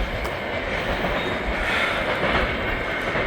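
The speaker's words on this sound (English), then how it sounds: "I was just talking about leaving and you give me that short train." A short CSX and Norfolk Southern freight train rolls past at night, a steady, loud rumble of wheels and cars with faint clatter throughout and no talking.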